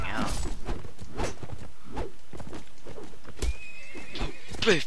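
A horse whinnies loudly near the start and again at the end in Mount & Blade: Warband, with hooves clopping in between over ambient game sound.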